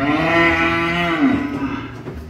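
A cow on a cattle farm moos loudly and close by, one long drawn-out low call that trails off, with faint farmyard noise behind it.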